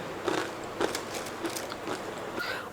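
Crispy murukku cracks under a bite, followed by a few crunchy chews, close and fairly quiet with no talking.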